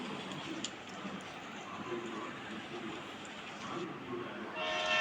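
Train in the mobile video game Choo Choo Charles, a low steady rolling rumble with a brief horn-like tone at the end, moderately loud under occasional talk.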